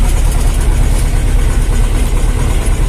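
A T-25 tractor engine idles in a village, a loud, steady low diesel chug that runs continuously and close by, with no voices.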